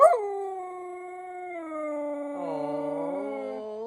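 Rose the dog howls in a long, close, drawn-out tone that wavers and shifts pitch, starting with a brief yip and holding steady to the end.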